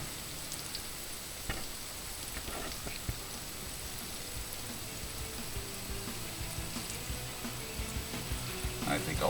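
Pork pieces fry in a pan for sweet and sour pork, giving a steady, dense crackling sizzle like light rain that continues throughout at moderate level, with a few sharper pops.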